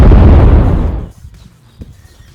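A bomb explosion erupts as a loud, close boom with a deep roaring body that fades over about a second, followed by faint scattered debris ticks and near silence.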